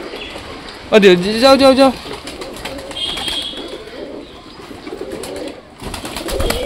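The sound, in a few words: pigeons cooing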